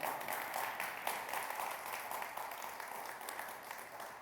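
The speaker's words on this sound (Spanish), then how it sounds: "dale un fuerte aplauso al Señor" A church congregation claps together at a Pentecost service, a soft, dense patter of many hands that continues evenly and tapers slightly toward the end.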